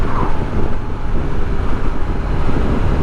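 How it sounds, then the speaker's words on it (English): Loud, steady wind buffeting the microphone while riding a Honda ST1300 motorcycle on the highway, a constant roaring rush with slight swells, no voices. "Yeah, the wind's really gusting out here."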